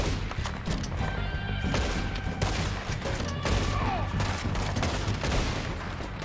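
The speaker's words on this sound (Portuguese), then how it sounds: "é uma vez pra atirar, aí você atira de novo e recarrega" Gunfire in the Western video game Red Dead Redemption, a busy fusillade of shots and crashes layered with game music and effects, continuous and fairly loud with no break.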